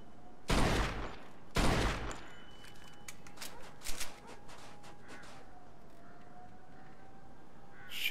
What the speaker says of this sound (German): halte linke Schultertaste gerückt, um zu zielen. Schieß auf die Reifen des kaputten roten Wagens.